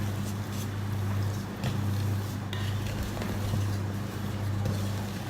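A wooden spoon stirring thick chocolate chip cookie dough in a bowl, a steady close scraping and thudding churn with faint clinks against the bowl, continuous throughout.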